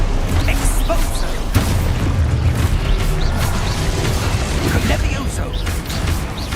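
A spell explodes in Hogwarts Legacy with a dull boom amid dense, continuous game noise and rumbling effects, while a voice talks over the action.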